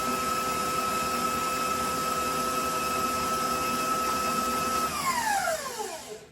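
An electric mixer whirring steadily through chocolate-sprinkle dough in a home kitchen, a loud close motor hum with a high whine that drops in pitch and fades as the mixer switches off near the end.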